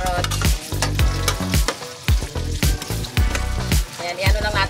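Potatoes and carrots sautéing in a pan for pork caldereta, a steady loud sizzle of frying with repeated scraping stir strokes in a regular rhythm, close up.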